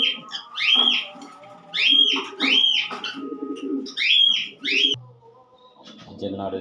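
A male racing pigeon calls in several repeated, rising-and-falling coo-like phrases, close and fairly loud, in short bursts separated by brief pauses before the calling stops.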